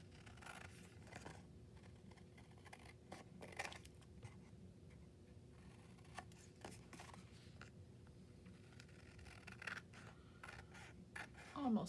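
Quiet, steady snips and scratchy rubbing of scissors trimming paper continue at close range, with faint handling noise and almost no talk.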